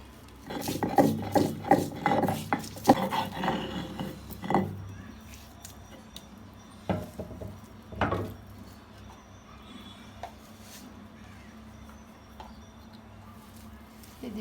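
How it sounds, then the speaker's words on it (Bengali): Dried knifefish shutki being pounded and crushed for bhorta: a cluster of rough rasping, thudding strikes early on, then sparser individual knocks amid quiet handling noise. "আমি এভাবে আস্তে আস্তে ছেঁচে নেব।"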